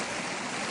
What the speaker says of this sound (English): Here comes the water. Just about to flow over the edges.